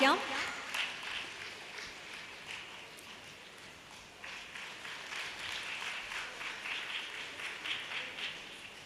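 An audience at a cultural gathering in Palakkad gives torch relay participants a round of applause: steady, faint, distant clapping that carries on without a break for the whole stretch.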